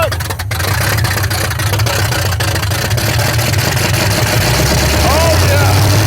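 Car engine revving in a homemade boost setup nicknamed the Boost Caboose, a loud steady roar with rising pitch toward the end, close up, with people talking over it.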